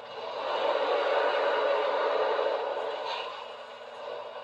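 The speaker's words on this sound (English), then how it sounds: "Here is the steam blowdown sound" Steam blowdown from a model B&O Big Six 2-10-2 locomotive: a broad, rushing hiss swells up, holds for a couple of seconds, then tapers off.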